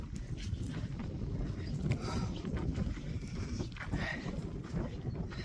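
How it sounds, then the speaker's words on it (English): Wind gusting across an exposed mountain trail during a long-distance hike, a continuous loud rushing roar buffeting the microphone with uneven surges from start to finish. "Oh my gosh, there's wind on this side."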